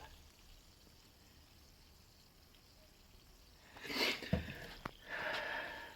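Liquid spurting past a leaking valve in a Honda Civic EP3 Type R engine being torn down: a quiet stretch, then a burst of splashing, pouring noise with a sharp knock, easing into a steady trickling hiss.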